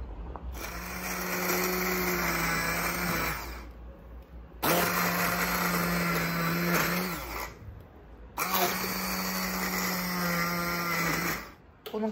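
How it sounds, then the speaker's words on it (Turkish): A blender whirs loudly in three long bursts of roughly three to four seconds each, blending a tomato mixture, separated by brief pauses, with a steady motor hum and grinding tone. "Şunu bir blenderdan geçireyim."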